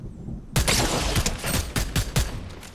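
Rapid bursts of gunfire in the video game Fortnite, a loud volley of sharp repeated shots that starts abruptly and keeps crackling in uneven clusters, with no voices over it.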